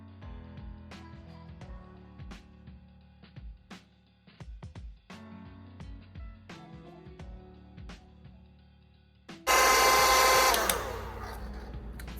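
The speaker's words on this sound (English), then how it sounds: "you're gonna take a blow dryer, put it on the cold setting, and dry it up" A blow dryer on its cold setting starts up suddenly and blows loud and steady to dry wig glue, following a stretch of quieter handling sounds.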